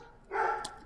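A single short bark from a large eight-month-old puppy weighing about 63 pounds, fairly faint and heard alone.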